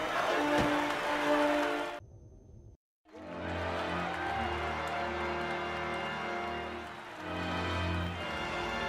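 A large crowd murmurs and clamors at a museum gathering in the Ghostbusters video game, a steady mass of voices that drops out briefly before resuming at an even level to the end.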